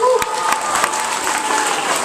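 A school orientation audience applauds steadily, a dense even patter of many hands with faint voices mixed in, sustained throughout the short stretch.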